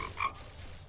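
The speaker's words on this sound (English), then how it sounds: "That is the perfect capture of a frog." A frog croaks in the Roblox game Bee Swarm Simulator, giving one short, clear croak near the start that rises above a low background hum.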